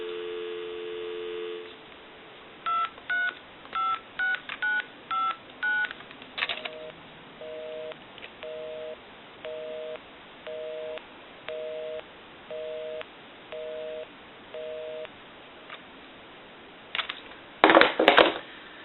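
A Pepsi-Cola novelty telephone dials out with a quick series of touch-tone beeps, then a busy signal pulses in evenly spaced repeating tones, ending with a brief burst of noisy clicks.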